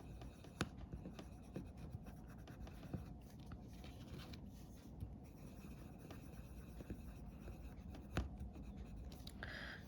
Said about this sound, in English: So take your pencil crayon and color it in, or your marker, whatever you have.